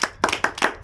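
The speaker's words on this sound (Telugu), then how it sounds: "చప్పట్లు కొట్టండి గట్టిగా." Loud, close hand clapping in an even, brisk rhythm, four or five sharp claps within a second and no other sound.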